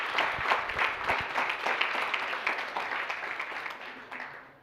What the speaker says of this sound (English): I'd like a special round of applause